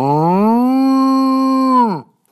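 A voice imitates a cow's moo: one long, loud, close call that holds steady for about two seconds, then bends downward and cuts off.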